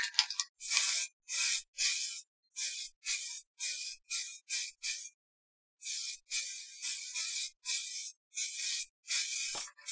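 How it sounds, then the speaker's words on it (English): Lacquer sprayed onto a textured oak bowl in a string of short hissing bursts, each about half a second, separated by brief gaps and one longer pause, close and clean with no talk. "Here we come with the next coat of lacquer."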